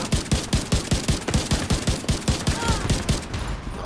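A new rifle firing in The Division 2: steady full-auto bursts of close, punchy shots at a rapid even rhythm of about five per second for nearly four seconds, with no talking over them.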